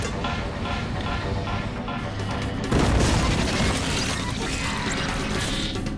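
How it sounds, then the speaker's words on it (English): Mouser robot exploding in TMNT Out of the Shadows, a sudden loud crashing boom midway that breaks into a dense rumble over busy game noise. "Did that mouser explode on purpose?"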